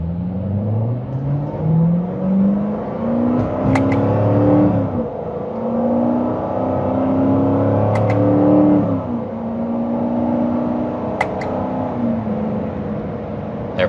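2017 Chevrolet Corvette Grand Sport Heritage accelerating in manual mode with paddle shifts, the engine note climbing steadily through three loud rising pulls, each broken by a short dip at the upshift around four, eight and eleven seconds.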